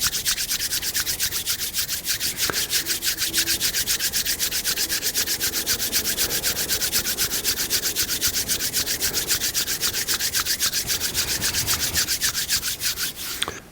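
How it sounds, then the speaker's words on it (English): Palms rubbed together briskly during a seniors' tai chi warm-up: a steady, close, rhythmic swishing friction that continues without pause for the full stretch, fairly soft and with no talking. "Rub your hands together briskly to warm up your palms."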